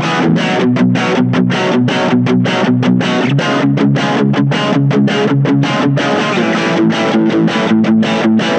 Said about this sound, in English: Let's see some more distortion as well, because that's where Blackstar really, really shines.